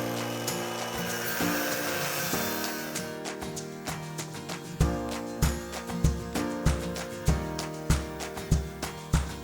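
A power tool cuts through metal on an old crane, starting with a continuous whining grind and then settling into a regular series of loud, rhythmic pulses, close by and with no talk.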